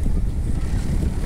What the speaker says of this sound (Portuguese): Lá vem lá o patrão lá na lancha lá, ó.